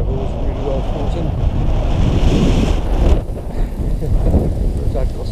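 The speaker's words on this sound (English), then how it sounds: "There's that gust of wind." A strong gust of wind in Banagher Glen, Sperrin Mountains, buffets the microphone with a loud, rushing roar that swells, then eases slightly, continuing as steady blustery noise.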